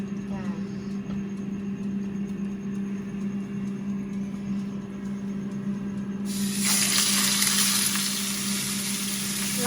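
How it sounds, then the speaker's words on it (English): Pork chops go into a pan of hot olive oil partway through and set off a loud, bright sizzle that keeps going. A low hum runs underneath and a voice talks throughout. "There's quite a lot of oil on the chops, and so we pop them in."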